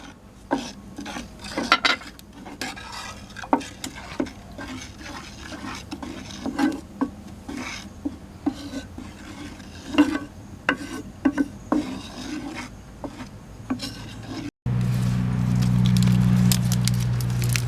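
A mixture of coconut milk, water and flour stirred in a pot, with repeated close scraping strokes at an uneven rhythm, then a louder steady hiss toward the end.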